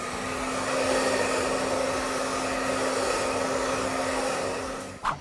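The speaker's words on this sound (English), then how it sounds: "So we're gonna go ahead and start the blow dry" A hair dryer blows steadily during a salon blow-dry, a loud continuous whooshing roar with a constant motor hum, ending with a brief clunk as it shifts.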